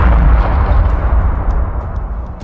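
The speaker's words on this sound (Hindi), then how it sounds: "एक जोरदार विस्फोट खिड़कियों को तोड़ देता है, वाहनों को जलाता है" A loud car bomb blast in a busy Delhi street area, a heavy deep boom followed by a rumbling roar that slowly decays, with faint debris crackles at the tail.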